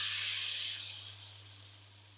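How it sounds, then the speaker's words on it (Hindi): Hot onion tadka poured over a pot of mixed dal gives a loud hissing sizzle that fades steadily over about two seconds, with no talking. "गरम गरम तड़के को ही हम ऐड करेंगे दाल के ऊपर।"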